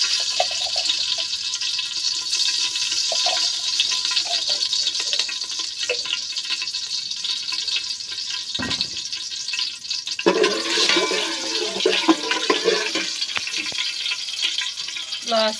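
Rice frying in ghee in a pan while preparing prawn biryani, giving a continuous hissing sizzle with occasional stirring scrapes, close and fairly loud, with faint talk in the background.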